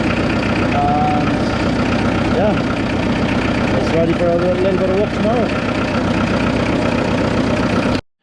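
An International B-275 tractor engine idles steadily with a low, even rumble, close and continuous until it cuts off at the end, while someone talks over it.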